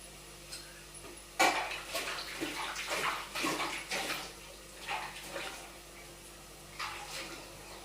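Utensils are washed under running water at a home kitchen sink, with a quiet continuous trickle broken by several clattering knocks and splashes of dishes and pots being handled up close.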